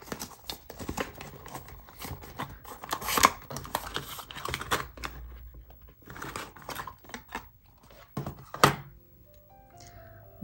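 Miss Dior Parfum box packaging being opened, with close crinkling, scraping and thumping handling noises, a couple of sharper clicks or snaps, and no talk.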